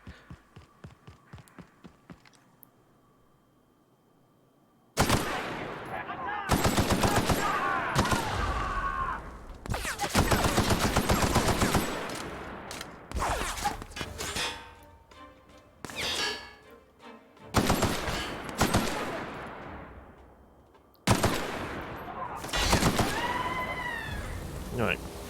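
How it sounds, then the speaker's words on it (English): Bursts of automatic gunfire in The Outer Worlds video game, loud and close, coming in several rapid volleys separated by brief pauses and mixed with game sound effects. "Bit of sloppy shooting there"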